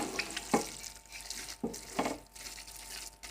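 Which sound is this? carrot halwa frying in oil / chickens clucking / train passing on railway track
carrot halwa frying in oil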